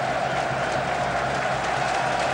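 A stadium crowd at a 1995-96 Champions League football match between Borussia Dortmund and Rangers, applauding Riedle as he is substituted off, a steady dense wash of clapping and crowd noise, broad and distant.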